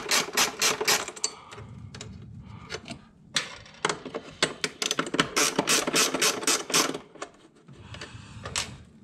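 Ratcheting wrench loosening 10mm nuts on a Mazda 3 battery, heard as bursts of quick metallic clicks in short runs with pauses between, fairly close.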